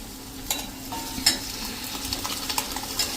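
Pressure-cooker-boiled dal poured into a pan of cooked tomato masala for dal tadka, with a steady sizzle, a few sharp clinks and spoon scrapes, and bubbling stirring noises.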